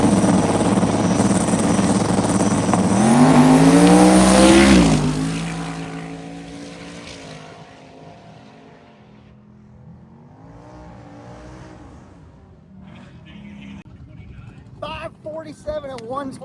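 Hearse drag car with a very long wheelbase making a drag strip pass: a loud rising engine roar that peaks, then fades away into the distance, with crowd noise and voices returning at the end.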